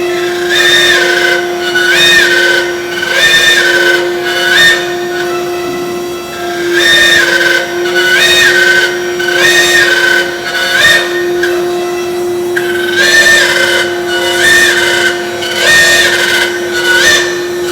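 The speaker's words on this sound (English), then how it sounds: "So that has now started the spindle." A ShopBot CNC router spindle runs with a loud steady tonal whine, joined by repeated rhythmic pulsing bursts of higher-pitched mechanical noise as the machine operates, no speech.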